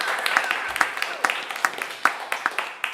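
Audience clapping for the live band at the WDVX Blue Plate Special, moderately loud with sharp, scattered claps running steadily throughout the short stretch.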